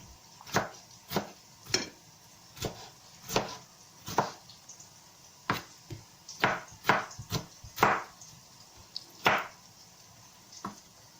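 A knife chops medium-sized tomatoes on a board, about fifteen sharp, close thuds falling in an irregular rhythm with quiet gaps between them, and no one speaking.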